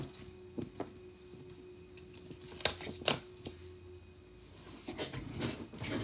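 A deck of tarot cards is shuffled by hand during a Gemini reading, with soft, scattered clicks and riffles that come and go quietly in an otherwise hushed room.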